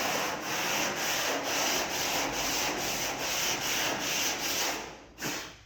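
Body filler on a Mustang roof being sanded by hand with a sanding block, steady rhythmic rasping strokes about two per second, close and clear, ending with a brief pause and a final stroke.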